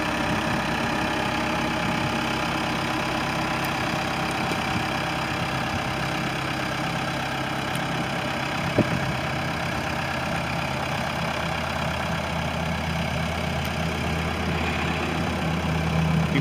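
A 2007 LULL 944E-42 four-wheel-drive telehandler with a cab idles steadily outdoors at an equipment lot, a constant close diesel rumble with a slight knock near the middle.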